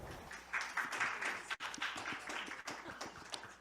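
Audience applause follows the close of a speech, with dense, steady clapping that runs through the whole stretch at moderate volume and dips briefly a couple of times.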